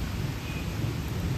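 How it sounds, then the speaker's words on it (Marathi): Heavy unseasonal rain falls on a Friday market in Karjat, making a dense, continuous low roar that holds steady and loud, with no voices over it. "जास्तच पाऊस पडतो आता"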